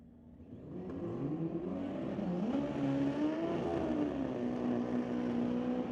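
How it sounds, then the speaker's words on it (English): Pro Mod drag racing motorcycles roar down the strip in a distant, sustained engine drone that swells after the first second and holds with a wavering pitch, heard over broad crowd and track ambience without talk. "a little two-wheeled action here from our pair of Pro Mod bikes"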